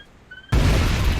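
An explosion in the point-and-click game Broken Sword: a short quiet lead-in, then a sudden loud boom that becomes a sustained, dense roar filling the rest of the moment.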